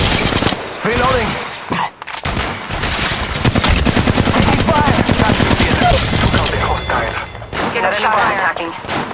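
Rapid gunfire in the mobile video game Apex Legends Mobile, loud dense bursts of automatic shots running almost continuously, broken by a short gap, with in-game voice chatter over the shooting.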